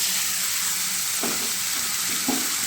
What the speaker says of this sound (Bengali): এটা ভাজা হয়ে গেছে দেখুন এবার সেদ্ধ করা মোচাটা দিয়ে দেবো